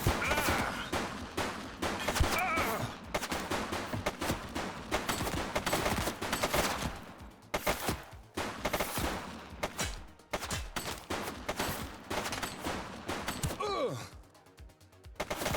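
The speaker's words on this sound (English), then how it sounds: "Shots fired!" Gunfire in the police game The Precinct, dense rapid bursts of shots and automatic fire crackling loudly for most of the stretch, easing briefly near the end before a few more shots.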